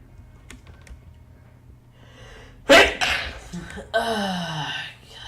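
A single sharp, loud sneeze cuts through a quiet room with light computer keyboard typing, followed by a short breathy gasp and a voice.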